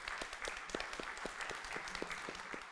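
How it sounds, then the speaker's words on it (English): An audience at a talk on AI ethics and faith applauds the two speakers, a faint, distant patter of clapping with a few sharper individual claps standing out. "If you could join me in giving a round of applause to Nathan and Zeshan."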